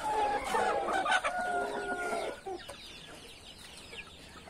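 A brooding hen clucks close by on a farm, with a run of loud, rapid calls that taper off into softer, scattered clucks over a few seconds, with no talking.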